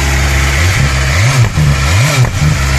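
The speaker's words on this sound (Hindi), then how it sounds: "ओ भाई रेस देना भाई, रेस देना रेस।" A new superbike on its stock exhaust revs repeatedly, the engine note rising and falling in several loud blips over a steady idle, heard up close.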